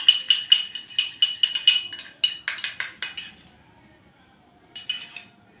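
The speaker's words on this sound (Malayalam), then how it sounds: "എന്നിട്ട് നന്നായിട്ടൊന്ന് മിക്സ് ചെയ്യാം നന്നായിട്ടൊന്ന് മിക്സ് ചെയ്യാം" A spoon clinks rapidly against a bowl while a homemade face pack is mixed, about a dozen sharp taps in quick bursts, a pause, then a few more strikes, close and clear with no talking.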